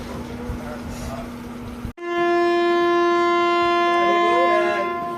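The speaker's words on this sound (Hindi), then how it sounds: "और ये हो गई अपनी ट्रेन खड़ी" Marudhar Express with new LHB coaches halting after a chain pull: a low running rumble cuts off abruptly, and a loud, steady, high tonal whine with layered harmonics takes over and holds until the end.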